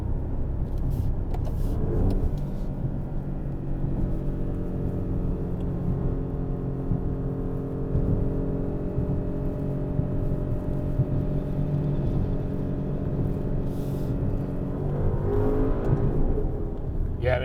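A 2021 Maserati Ghibli Trofeo's Ferrari-built 3.8-liter V8 builds steadily as the sedan accelerates, a deep, throaty, continuous loud rumble with rising harmonics and no talking.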